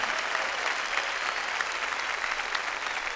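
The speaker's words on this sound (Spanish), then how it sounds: "Démosle palmas fuertes al que está sentado a la diestra." Church congregation clapping hard together, a dense, steady wash of applause filling the room for about three seconds with no talk over it.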